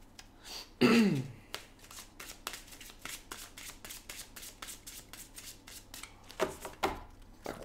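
Tarot cards are shuffled by hand in a long run of quick, crisp riffles and flicks, close and clear, with a louder burst near the start and another near the end.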